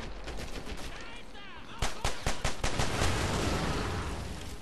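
Gunfire from shooting an enemy in the video game Medal of Honor Airborne: a rapid burst of loud, close shots in sharp repeated cracks, followed by a dense roll of continued firing and rumble.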